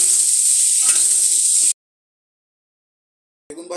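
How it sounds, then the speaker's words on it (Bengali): Eggplant slices frying in oil with salt and turmeric in a kadai, a bright steady sizzle with a brief stirring scrape, then sudden silence and a short return of sizzling. "এবার একটু নাড়িয়ে দেবো।"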